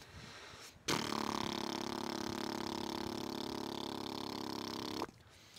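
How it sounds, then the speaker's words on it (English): A sustained lip buzz practised for didgeridoo, one steady droning vibration held for about four seconds, close and even in loudness, with quiet room sound before and after. "practice just trying to sustain a vibration with your lips for as long as possible, with as little air as possible"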